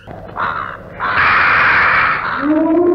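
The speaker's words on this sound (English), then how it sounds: "Stupid loud birds." Loud, harsh crow caws ring out close by, a short call followed by a longer drawn-out one, with another bird chiming in at the end.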